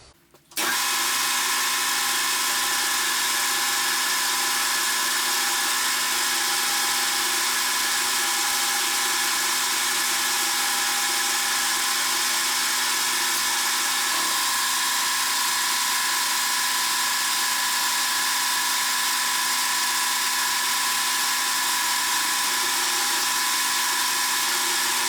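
Metal lathe taking a 1 mm cut on a tailstock die holder in tough material, a steady loud mechanical hum with a high whine, unbroken for the whole stretch; no talking.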